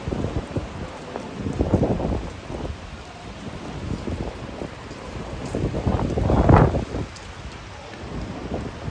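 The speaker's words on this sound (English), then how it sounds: "It looks like it is raining, so we will get the umbrella out." Rain falling on a plaza in Midtown Manhattan near 34th Street, a steady hiss of drops with gusty low rumbles and a brief louder surge near the end, no voices.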